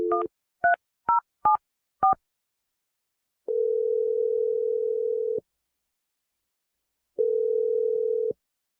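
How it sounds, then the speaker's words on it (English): Touch-tone telephone keypad beeps as a phone number is dialed, five short dual-tone presses in quick succession, followed by two longer steady tones, clear and isolated with silence between. "I'm about to dial the phone number right now."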